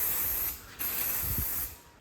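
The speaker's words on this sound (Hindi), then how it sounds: "स्प्रे कर लें, ताकि ये जो मक्खियाँ वगैरह अंदर आई हैं ना दरवाज़ा खुलने की वजह से, ये मर जाएँ" An aerosol insecticide is sprayed around a room to kill flies: a steady close hiss that dips briefly midway, then resumes, with a faint thump underneath.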